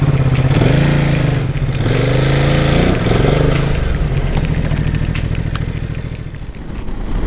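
A Ducati Multistrada 950 motorcycle revs loud and close, then pulls away, its engine note rising and falling through gear changes before settling into a steady, slightly fading drone as it rides off.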